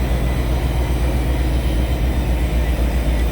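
Exo commuter train locomotive, number 1342, standing at Mascouche station: a loud steady low diesel drone with a constant hum, close by and unchanging, with no talking.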